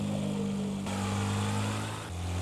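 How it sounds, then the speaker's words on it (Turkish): A steady BMW 5 Series exhaust drone in the video game Car Dealership Simulator 2, with low rumbling harmonics that shift pitch as the car accelerates, loud and continuous, no voices. "hızlandığı zaman çok güzel bir egzoz sesi veriyor"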